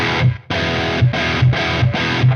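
Electric guitar played through a Synergy Bogner Uberschall at high gain, loud distorted chord stabs repeating in a chugging rhythm with brief gaps between hits.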